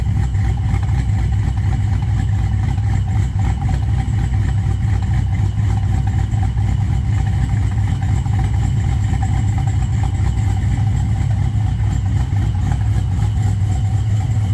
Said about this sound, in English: You can hear that Pro Charger.